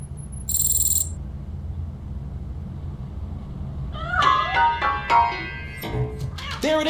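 A cat meows in short bursts inside a piano in RoboCop Rogue City, its cries clear and fairly close over a low game ambience, following an earlier brief high electronic tone.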